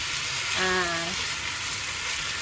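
Chicken pieces with ginger sizzle steadily in hot sesame oil, a dense close frying hiss throughout, with a brief tonal whine or voice-like hum in the middle.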